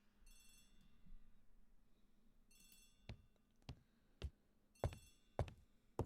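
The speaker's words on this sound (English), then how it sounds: "The telephone in the hall is ringing." A telephone rings in a house hallway in an Agatha Christie ABC Murders detective video game, with a bright electric bell in three separate bursts, each followed by sharp knocking or footstep thuds on a quiet background.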